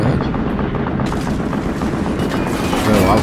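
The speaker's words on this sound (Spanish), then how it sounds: "Una ametralladora, ¿puedo cogerla?" Machine-gun fire in Assassin's Creed Unity, a dense, loud rattle of shots running continuously throughout the short stretch.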